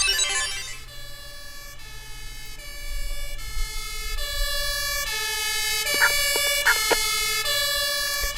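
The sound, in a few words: fire engine siren in a video game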